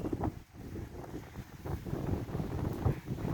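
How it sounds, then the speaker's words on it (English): Gusty wind on a farm buffets the microphone in loud, uneven low rumbles that rise and fall continuously, with no voices. "It's very windy today"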